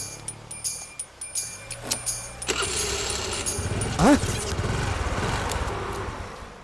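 A car pulls over to the roadside: a few soft knocks give way to a steady, fairly close engine rumble, with a brief rising squeal partway through and no talking.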